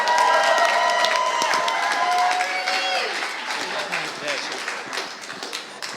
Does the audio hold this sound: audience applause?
yes